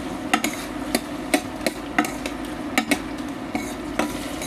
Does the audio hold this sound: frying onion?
yes